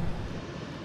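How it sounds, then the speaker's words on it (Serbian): Aircraft engines roar at an air show with planes and helicopters from many countries. The sound is a steady, broad, distant rumble with no distinct events, fairly faint throughout. "avionski motori koji se čuju kilometrima daleko"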